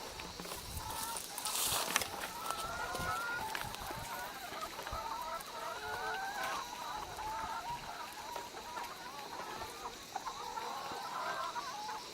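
Organic chickens cluck and chatter steadily on a farm in Pınarbaşı village, Akseki, Antalya, a busy flock heard continuously over a faint background hiss, with no talking.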